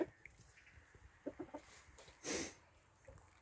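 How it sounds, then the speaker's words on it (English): Chickens pecking at grass and clover give soft, scattered clucks, a few quick notes at a time, fairly faint in a quiet outdoor setting, with one brief louder rustle partway through. "So the chickens are busy pecking away at that now"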